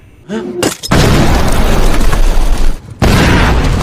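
Landmine blasts in the war film Sisu: a short spoken phrase, then two massive, close booming explosions, each a sudden roaring burst that rumbles on for a couple of seconds before cutting off.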